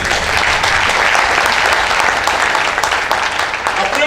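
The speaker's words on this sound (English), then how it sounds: "Clap for this once more" An audience claps steadily and loudly throughout a chairman's speech, a dense, continuous wash of applause with no talk over it.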